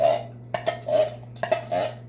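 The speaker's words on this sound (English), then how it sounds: "And then I always use a spoon" A metal spoon clinks against a can during kitchen cooking, in several separate clusters of sharp, ringing taps with short pauses between them, close and clear over a steady low hum.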